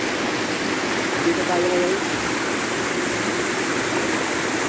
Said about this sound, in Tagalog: Yung babagsakan ng tubig nandyan.